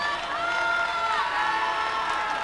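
A high school boys' basketball crowd, La Crosse Logan against Winona Senior High, roars steadily and loudly at a packed gym, with whoops and cheers blending into a continuous wall of noise.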